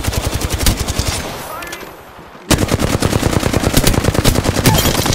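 Rapid automatic gunfire from the Apex Legends video game, loud and close, in dense sustained bursts that stop briefly before a sharp resumption.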